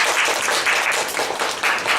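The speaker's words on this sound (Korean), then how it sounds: "박수 한번 주십시오." An audience at a lecture applauds in dense, continuous clapping with a slightly uneven, pulsing rhythm, fairly close and steady for the whole stretch.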